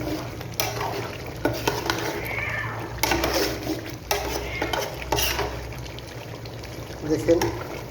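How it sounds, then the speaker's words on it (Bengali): Beef frying in a pan is stirred, giving a steady sizzle with repeated scraping and clinking strokes of a spoon against the pan. "মাংসটা আমি নেড়ে দিব।"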